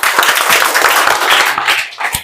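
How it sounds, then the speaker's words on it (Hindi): Students in a classroom clap together loudly and unevenly for about two seconds, trailing off into a few last claps. "चलो इसके लिए ताली कस के बजा दो एक बार।"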